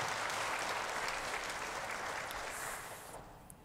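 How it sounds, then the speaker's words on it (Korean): A church congregation claps in appreciation for the Charis worship team after an evening service of praise, a dense steady patter that tapers off over nearly four seconds. "우리 카리스 찬양팀에게 격려의 박수 드리겠습니다"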